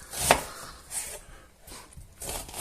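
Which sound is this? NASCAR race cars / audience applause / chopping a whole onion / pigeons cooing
chopping a whole onion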